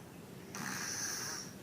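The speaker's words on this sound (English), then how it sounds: "Isn't it cute how he's snoring?" A baby snores steadily, a breathy, raspy drone that swells and holds for about a second over faint background hiss.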